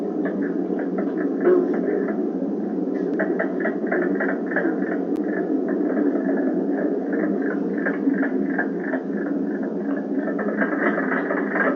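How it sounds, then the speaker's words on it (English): Mink frog calls, a rapid, knocking chorus of repeated notes, with a green frog calling in the background; the calling runs continuously at moderate level throughout. "The mink frog is only found in Michigan's Upper Peninsula"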